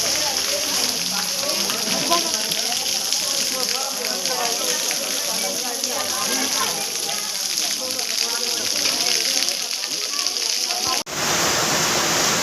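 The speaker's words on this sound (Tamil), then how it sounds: "இந்த சிலா தோரணத்தில் தான் இந்த வாட்டர் ஃபால்ஸ் இருக்குது" Waterfall at Silathoranam in Tirumala, a dense steady rush of falling water heard close and loud, continuous throughout with no talking before a sudden shift near the end.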